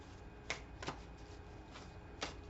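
Cards from a Colette Baron-Reid Goddess oracle deck are shuffled and pulled in a quiet room, giving four short, crisp riffling bursts spaced through a soft background hiss.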